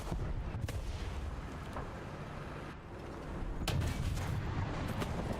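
Heavy artillery fire in the tank game War Thunder, a steady wash of dense low rumble broken by several sharp, loud blasts and impacts, with no talking.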